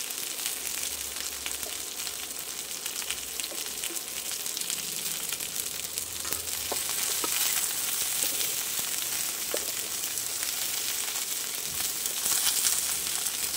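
Garlic sizzles steadily in oil in a frying pan while being cooked for a quick cauliflower dinner recipe, a continuous close crackle and hiss with occasional stirring clicks.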